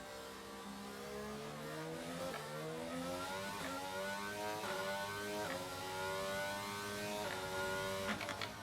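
Formula 1 car lapping the Jeddah circuit in the F1 22 racing game with no driving assists: high engine revs rise again and again through quick gear shifts, loud and continuous, with no talking.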